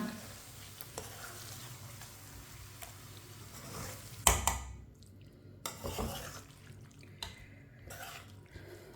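Vegetable curry with a half spoon of garam masala being stirred in a pan, a spoon scraping and clinking at a moderate pace over a soft sizzle, with sharper knocks midway.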